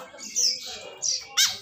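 A kekep babi, also known as the tetet bird, gives a series of three sharp, squawking calls, the last one brightest and loudest, heard fairly close and alone without talk.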